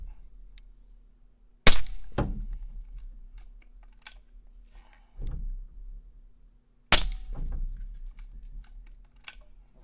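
Two sharp, loud cracks from a Taipan Veteran Shorty .25 air rifle, several seconds apart, each followed by a brief metallic clatter, with quiet clicks and handling noise between shots.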